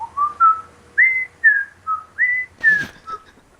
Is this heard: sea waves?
no